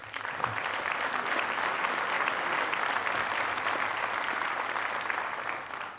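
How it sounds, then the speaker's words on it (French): A crowd at a 2024 New Year's greetings ceremony applauds continuously, steady clapping filling the space at an even level before tapering slightly at the end. "Merci à eux et on peut les applaudir."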